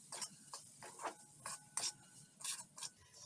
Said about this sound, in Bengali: সুজিটা এখন একটু ভাজা হবে।